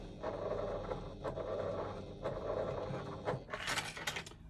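Sewing machine running a back stitch while sewing a pouch, a quiet mechanical whirr with repeated ticking clicks and a brief louder rattle near the end, no talking.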